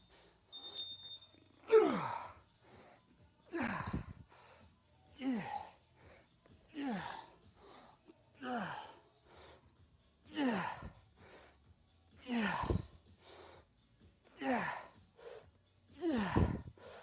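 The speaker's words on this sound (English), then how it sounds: "breathing's getting harder" During a gym workout, a man breathes heavily and hard, with deep rhythmic exhales and gasps roughly every one to two seconds, close and loud, with quiet gaps between breaths.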